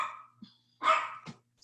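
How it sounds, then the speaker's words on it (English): A small dog barks at home during an online meeting, a couple of short yaps and one longer bark, moderately close and with no talk over it. "it's my little dog. Can y'all hear him? He's barking."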